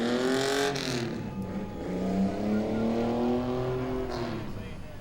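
Race cars roar past at Langley Speedway as the race finishes, their engines droning and shifting pitch as they sweep by, loud and sustained with a crowd-like wash underneath.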